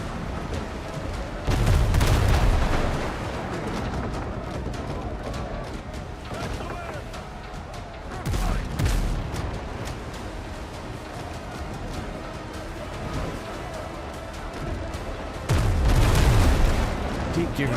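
Heavy ship cannon broadsides roar in the naval game Windrose, three big booming volleys a few seconds apart over a dense, continuous battle din of gunfire and crashing, with a voice talking throughout.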